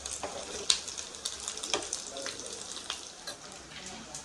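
Dried mutton pieces frying in a pan, a steady crackling sizzle with occasional sharper pops, moderately close, no talking over it.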